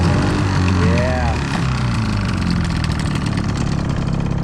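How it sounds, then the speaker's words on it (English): The outboard engine on a Carolina Skiff boat idles steadily after a Seafoam treatment, a close, continuous mid-pitched drone with a brief higher whine near the start. "We're gonna have to give her some revs once she gets warmed up to get it smoking real good and burn everything off."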